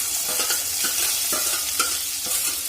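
An onion and garlic tadka sizzles in a pan on an Indian home stove, a steady hissing fry punctuated by soft stirring scrapes throughout.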